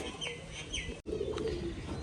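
Gribaj pigeons cooing in a loft, soft repeated coos over a low murmur of other birds, close by with a brief dropout midway.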